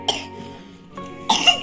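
A child coughs up close, two short harsh bursts separated by a brief quiet gap, with a faint breathy sound in between and no speech.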